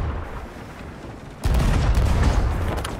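Cannon fire aboard a ship in the video game Sea of Thieves: a sudden loud boom lands halfway through over a background of rushing noise, with heavy low rumble sustaining afterward and no speech.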